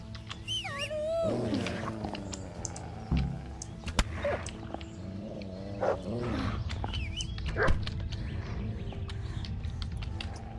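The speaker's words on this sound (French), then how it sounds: "le chien attaque le loup là" Snarling and growling animal fight in the Kingdom Come: Deliverance video game, a dog attacking a wolf, with harsh repeated bursts and yelps over continuous game ambience, fairly close and loud.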